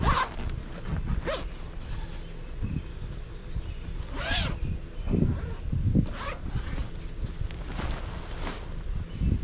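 Several short rasping zipper pulls amid rustling and handling noises, close by, spaced irregularly across the stretch.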